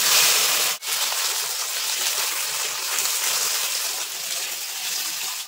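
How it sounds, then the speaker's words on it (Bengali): Long-cut taro pieces sizzling in hot oil as they are stirred, a loud, steady frying hiss with one brief dropout. "গাটি কচুটা আমি কিছুক্ষণ নেড়ে নিয়েছি তেলের উপর"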